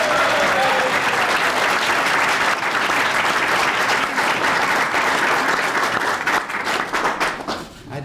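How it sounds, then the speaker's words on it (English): An audience at a farewell reception for Secretary James Watt applauds in steady, dense clapping that stays loud for several seconds, then thins and fades toward the end. "you're clapping for Jim Watt"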